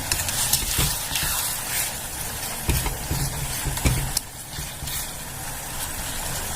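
Tomato rice masala frying in oil in a pan, giving a continuous broad sizzle with occasional clicks and scrapes of stirring, steady and close without talk.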